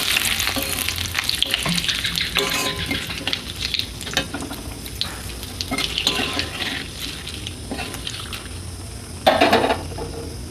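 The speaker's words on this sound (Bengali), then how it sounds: "অল্প একটু চিনি দেবো, তেজপাতা 3টে, শুকনো লঙ্কা 2টো, একটু লাল লাল করে ভেজে নেব।" Bay leaves and dried red chillies fry in hot oil for a mutton kosha, giving a steady close sizzle with scattered stirring clinks and a louder burst of crackle near the end; no one speaks.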